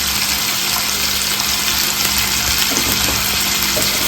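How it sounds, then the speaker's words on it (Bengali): Tomatoes with a little salt frying in a pan, giving a steady, continuous sizzle at close range with no voices. "টমেটোটাকে ভেজে নেব"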